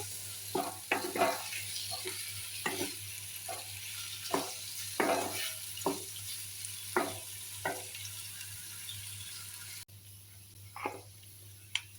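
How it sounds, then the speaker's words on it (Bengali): Bitter gourd (uchhe) being stir-fried uncovered in a pan, with a low sizzle under repeated scraping and stirring strokes of a spatula at an uneven rhythm, close and fairly quiet. "তো এইভাবে নাড়িয়ে নাড়িয়ে উস্তে ভাজতে হবে।"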